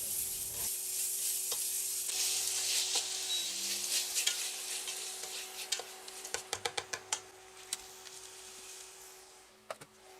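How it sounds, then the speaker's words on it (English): Minced ginger and garlic hitting a pan and frying, a crisp sizzle followed by a series of sharp scraping and tapping stirring strokes at close range. "I'll go ahead and add the ginger garlic that I minced earlier. I'll cook them for about 3 minutes until they turn fragrant."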